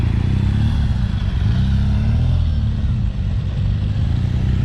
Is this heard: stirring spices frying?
no